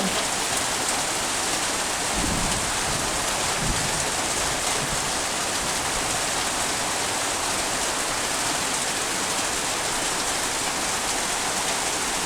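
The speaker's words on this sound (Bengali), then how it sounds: "কিরকম বৃষ্টি হইতেছে দেখেন বাবা এত বৃষ্টি যে মাটি সব ধোয়াই নিয়ে যাইতেছে বাড়ির" Heavy rain pours down steadily on a village house, a dense, continuous roar of falling water and drops hitting surfaces, loud and unbroken with no talk.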